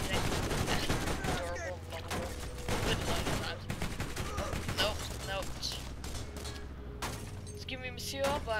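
Bursts of automatic gunfire in the Borderlands video game, rapid volleys and single shots with impacts, under a voice talking.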